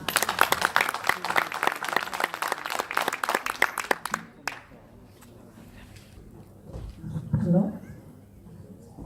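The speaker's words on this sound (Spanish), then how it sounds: "le pido un gran aplauso" An audience at a public-services conference on workplace harassment claps to welcome a speaker, loud, brisk applause for about four seconds that thins to a few scattered claps before a voice begins talking.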